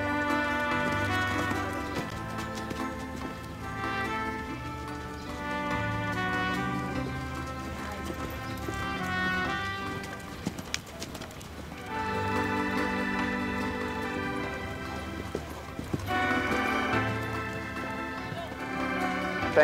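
A horse canters in a show-ring class, its hoofbeats rolling in a steady three-beat rhythm beneath a loud stretch of harmonic, tonal sound and a public-address voice, with a whinny-like call briefly audible.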